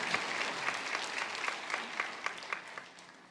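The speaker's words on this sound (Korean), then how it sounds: "박수로 한번 영광 돌리시죠" A church congregation claps together in steady, dense applause with sharper individual claps standing out, moderately loud throughout and with no voices.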